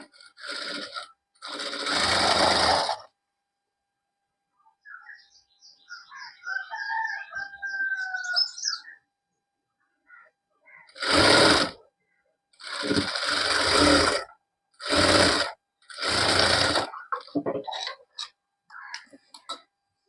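A sewing machine stitches palazzo pant fabric in several loud bursts of rapid mechanical whirring, separated by pauses, with a faint brief squeak of handling in between.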